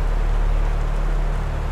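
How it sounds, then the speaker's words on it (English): Steady rain in the horror video game Neverending Nightmares, a dense, even hiss over a low droning hum, loud and continuous with no voices. "Oh, and the rain's coming."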